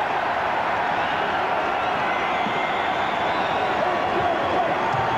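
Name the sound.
basketball arena crowd cheering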